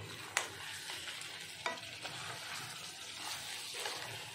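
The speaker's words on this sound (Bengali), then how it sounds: "এবার একটু হালকা করে একটু নাড়ি চাড়িয়ে দেবো" Crab and potato curry being stirred in a pan, with a spoon scraping and knocking in a few sharp strikes over a steady low sizzle, close and moderately loud with no talking.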